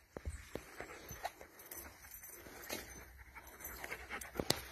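A large dog pants in quick, breathy bursts at close range during a session with a dog behaviourist, fairly quiet, with soft shuffling and movement around it.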